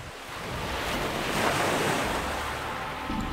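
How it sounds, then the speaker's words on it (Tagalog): Ocean waves crashing and washing on shore with wind, a continuous loud roaring surge that swells and holds, no voices. "tanging hampas lang ng alon ang maririnig mo sa paligid"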